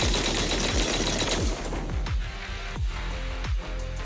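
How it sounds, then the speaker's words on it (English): Heavy cannon fire in the video game Zenless Zone Zero, a dense volley of loud rapid booming shots that thins into several spaced, punchy blasts. "That was the sound of a heavy cannon?"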